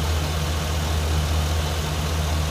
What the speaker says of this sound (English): under the hood, your 6-liter Vortec V8